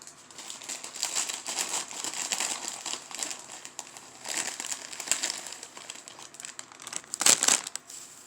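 Purple plastic Easter grass from Dollar Tree is unwrapped for a craft, giving close, rustling crinkles in uneven bursts, with a sharper crackle near the end and no talk.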